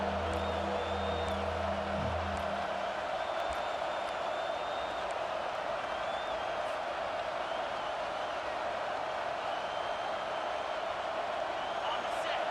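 Crowd noise in a football video game stadium, a steady loud roar of cheering that fills the whole stretch, with brief tonal game sounds near the start.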